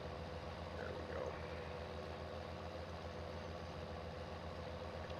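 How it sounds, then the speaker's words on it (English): Tractor engine pulling a baler in Farming Simulator 19, a steady low droning rumble that holds an even, unchanging tone throughout at moderate volume. "This tractor does turn pretty nice, and it's pulling this baler a lot better than I thought."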